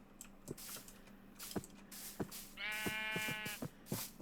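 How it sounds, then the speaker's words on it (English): A sheep in Minecraft bleats once in a clear, quavering call midway through, set among soft footstep-like thumps and game ambience at a low overall level. "And a sheep. There's a sheep."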